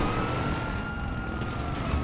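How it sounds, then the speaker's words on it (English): A police car siren wails in GTA 5 Online, a steady loud electronic tone over dense game engine and traffic noise, with no voices. "Is that a player in a police car chasing me now?"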